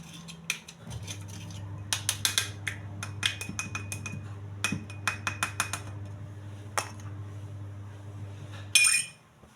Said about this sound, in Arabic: دابا انا راه مدخله هاد الصفايه، شو راه ندخلها في الماء